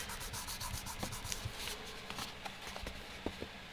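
Alcohol inks being scrubbed onto clear sticker paper: close, quiet, uneven rubbing and scratching strokes with small sharp ticks and soft swishes, continuing in a busy irregular rhythm.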